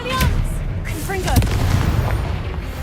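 Confringo fire spell from Hogwarts Legacy going off in combat with a loud booming burst, over rumbling battle noise and a magical whoosh, game voices and creature sounds around it.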